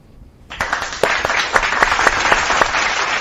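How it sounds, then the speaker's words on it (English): Applause from a crowd starts abruptly after a short quiet moment, with steady clapping and a few sharper claps standing out, fairly close and loud. "let's give them a big applause too"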